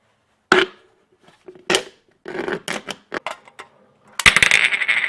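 Sharp cutting and snapping sounds from an aluminium drink can being cut along a marked line, several separate crisp bursts with a louder, denser crunching run near the end, close and clear with no talk.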